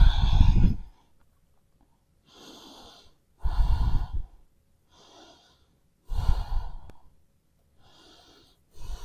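Deep audible breaths during a vinyasa yoga flow: strong close exhales alternate with softer inhales in a slow, regular rhythm, with quiet gaps between breaths and no speech.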